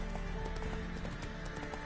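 Roach the horse trots in The Witcher 3, hooves clip-clopping in a quick steady rhythm, loud and close, over a dense game soundscape.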